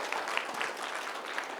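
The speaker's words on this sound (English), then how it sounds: "Big clap for him." An audience at a leadership talk claps steadily, a dense, even patter of many hands at moderate loudness with no voices over it.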